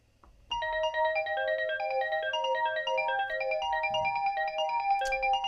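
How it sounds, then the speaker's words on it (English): A synthesizer arpeggiator cycles a bright, evenly stepped pattern of repeating notes, starting after a brief quiet lead-in and running steadily and fairly loud to the end, with no voices. "the arpeggiator just sounds too pleasant"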